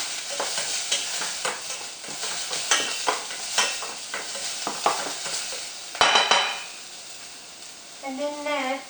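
Onion and garlic sauté in a pan for a peanut sauce, giving a steady close sizzle with repeated stirring scrapes and a sharp metallic clink of utensil on pan midway, before a voice speaks briefly at the end.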